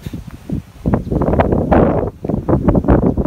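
Strong, buffeting wind of Hurricane Matthew in 2016 roars in uneven gusts against the microphone, rising and falling loudly throughout with rustling noise.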